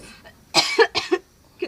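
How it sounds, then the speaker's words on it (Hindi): A few harsh coughs close to the mic, two or three bursts in quick succession, then a brief softer cough after a pause. "कितना खांसी आ रहा है जब से"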